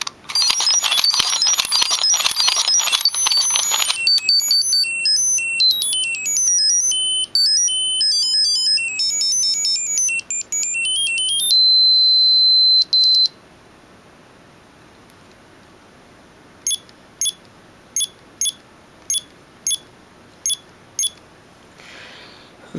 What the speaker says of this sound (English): This then rewards you with the Henshin music and animation.